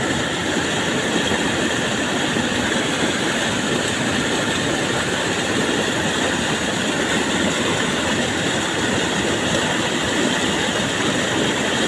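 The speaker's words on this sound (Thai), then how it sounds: "มาฟังเสียงธรรมชาติครับเสียงน้ำซนครับ" Steady, dense hiss of heavy rainfall mixed with water rushing along a residential street, continuous and loud throughout with no breaks.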